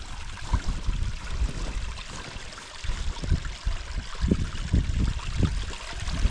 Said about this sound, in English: the water's running pretty well down here